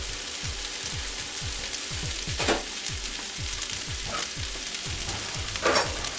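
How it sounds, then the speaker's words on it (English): Casserole ingredients fry in a pan with a steady crackling sizzle, while a regular series of low thumps sounds underneath and a few brief sharper hisses and pops break through. "So again, now we're back to frying."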